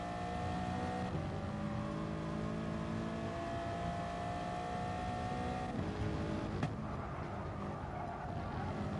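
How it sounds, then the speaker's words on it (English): Gran Turismo Sport race car held at full throttle onto the start-finish straight at Lago Maggiore: a steady, loud, high engine drone with rising pitch, followed by a quick gear shift and a continuing roar. "Full throttle into the straight start finish line."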